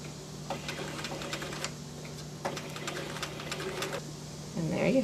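A sewing machine runs in two short bursts of rapid, even stitching as it sews a diagonal seam across fabric binding strips, close and moderately quiet, with a brief rustle of cloth at the end.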